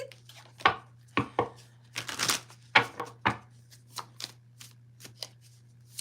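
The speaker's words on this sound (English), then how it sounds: "Ooh, let me shuffle." A Royal Fez Moroccan tarot deck being shuffled by hand, a run of crisp riffling card flicks and snaps in irregular bursts, close and clear over a faint steady hum, with no talking.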